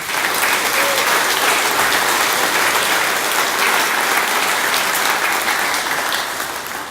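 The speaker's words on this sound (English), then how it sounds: "Let's give the Admiral a nice round of applause." Sustained audience applause for an Admiral at a Bomm Ford grand opening, a dense, steady wash of clapping from a crowd that holds evenly for about seven seconds before easing slightly at the end.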